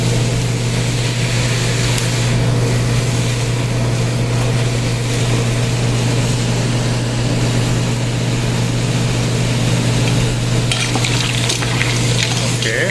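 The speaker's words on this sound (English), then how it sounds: "Then we flambe it with the brandy." Crab coulis flambéed with brandy in a pan, a loud steady sizzle and roar of frying with a constant low hum underneath, continuous throughout with a brief clatter near the end and no talking.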